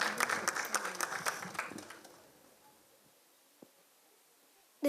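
Audience at a live Republic Day music show applauding, a brief burst of clapping that fades out within about two seconds, followed by near silence and a couple of faint knocks.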